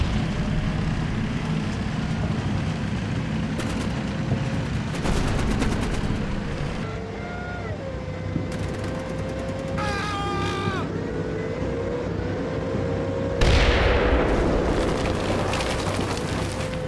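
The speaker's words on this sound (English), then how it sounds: "Looks like they're firing from the dam." Battlefield gunfire in Combat Mission Black Sea at the Kiev Reservoir dam, with scattered shots and short bursts over a steady engine-like drone and rising whines, one heavier blast near the end.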